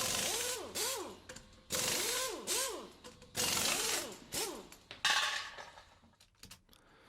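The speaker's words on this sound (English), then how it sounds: "So I decided to go for a kind of wrench sound, a mechanical sound." A designed mechanical wrench sound effect: repeated bursts of metallic whirring with sweeping pitch, arriving in four or five loud, evenly spaced pulses followed by scattered smaller clicks.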